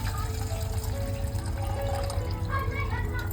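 Crab stock made from crab shells is poured into fried masala in a pan, a soft continuous liquid pour under a steady low hum, with talk alongside.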